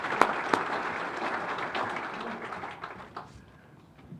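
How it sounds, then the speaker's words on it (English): An audience applauds an invited weather forecasting speaker at an event, with sustained clapping from a crowd that swells and then fades away over a few seconds. "Give him a round of applause"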